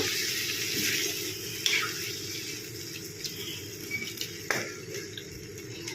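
Leftover water from washing spices pours into a cooking pan of ridge gourd and potato in mustard-poppy paste, a soft close trickle with a few small splashes and clinks.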